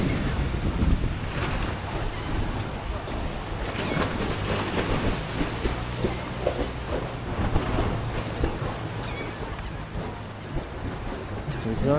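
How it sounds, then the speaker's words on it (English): Choppy sea water sloshing and wind buffeting the microphone at Bimini beside a docked cruise ship, a steady loud wash of waves and gusts throughout. "Water's a little choppy today."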